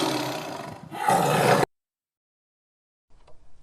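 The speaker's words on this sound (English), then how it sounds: "tiger," A tiger roars in a loud, rough burst lasting over a second, swelling midway, then cuts to silence before a faint low rumble returns near the end.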